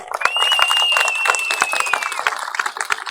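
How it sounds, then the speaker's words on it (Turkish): A protest crowd applauding, with rapid dense clapping mixed with whistles and cheers, close and loud for about three seconds. "Sesimizi biraz daha gür çıkartalım, alkışlarımız bütün Türkiye'den duyulsun."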